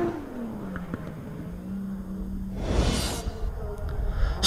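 Drift cars battling into the final corner at Lydden Hill during a British Drift Championship round, an engine note revving and sliding in pitch, then a loud whooshing burst as a car sweeps past close by.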